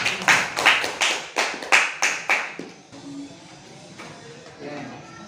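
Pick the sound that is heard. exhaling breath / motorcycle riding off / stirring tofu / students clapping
students clapping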